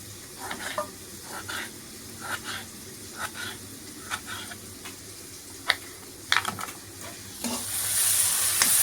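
Capsicum thokku masala fries in a pan with tomatoes and salt, under a soft sizzle. A spoon scrapes and stirs in regular strokes, a sharp knock comes near the end, and the frying grows louder in the last seconds.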